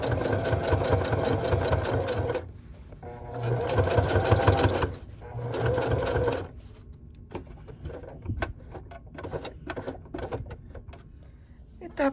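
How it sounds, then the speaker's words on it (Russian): Sewing machine stitching a repair on torn jeans with doubled thread for a topstitch seam, running in loud, steady bursts of a few seconds with brief pauses between, then lighter clicks and handling sounds. "Итак, строчу."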